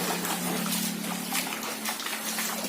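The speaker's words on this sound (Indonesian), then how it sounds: "Ini dari teras depan rumah semuanya banjir. Karena tadi hujannya deras banget." Floodwater from heavy rain flowing across a house's front terrace, a steady close rushing and splashing of water with no pauses.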